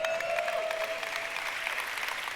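A church congregation applauds steadily throughout, a broad, even wash of many hands clapping at moderate loudness, with a faint sustained tone running beneath.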